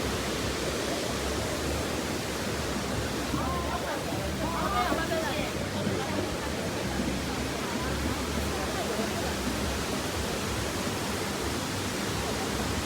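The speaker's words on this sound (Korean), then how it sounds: "시원한 물소리" The Wulai waterfall and river in Taiwan rush steadily in a dense, unbroken roar that stays loud and constant throughout, with faint voices in the background.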